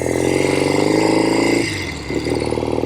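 A 1970 Royal Enfield Interceptor Mark II motorcycle with new carburetors and original exhaust pipes runs loud and close, a steady throbbing idle that dips briefly before picking back up.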